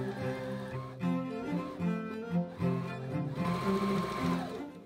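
Sewing machine stitching two wool layers of a 17th-century Dutch-style winter jacket, a close, steady mechanical whirr with shifting rhythmic tones throughout.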